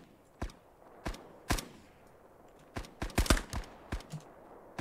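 StG assault rifle gunfire in a video game: scattered sharp shots, single and in quick clusters, spread irregularly over several seconds at moderate level with faint background ambience.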